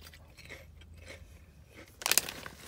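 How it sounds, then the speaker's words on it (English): Faint, close mouth crunching of Clancys (Aldi brand) sour cream and onion potato chips, with soft irregular chews ending in one sharper, louder crackling bite. "I promise I'm chewing with my mouth closed."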